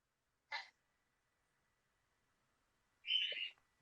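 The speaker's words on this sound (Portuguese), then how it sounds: "Eles vão estar escutando só o passarinho." A small bird chirps in the background, two brief, faint calls separated by silence.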